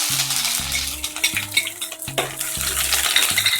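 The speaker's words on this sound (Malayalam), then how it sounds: "വറ്റൽമുളകും കറിവേപ്പിലയും നമുക്ക് ഇട്ടിട്ട് നല്ലപോലെ എണ്ണ ഇളക്കി അതിലേക്ക് നമുക്ക് ഇഞ്ചി ഇട്ട് കൊടുക്കാം" Dried red chillies, curry leaves and ginger fry in hot oil while a metal spoon stirs them in a pan, giving repeated scraping clinks over a soft crackling sizzle, close and without speech.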